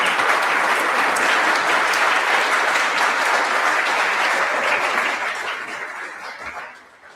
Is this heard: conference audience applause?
yes